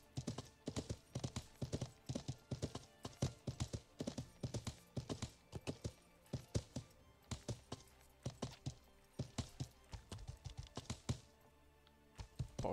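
Rapid, rhythmic hoofbeats clip-clop steadily and fairly loud throughout, like a horse trotting along in Life is Feudal: Your Own, with a brief pause near the end.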